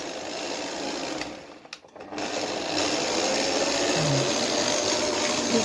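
An electric stand mixer kneading bread dough whirs loudly and continuously, briefly cutting out before spinning back up to a higher, steadier speed.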